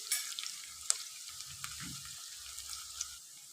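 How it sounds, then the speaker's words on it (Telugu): Onions fry in a pan for a cabbage curry, giving a steady soft sizzle with a few brief clinks and stirring scrapes. The sound is fairly quiet and close, with no voices. "ఆనియన్స్ అయితే మంచిగా ఫ్రై అయితే అయినాయి."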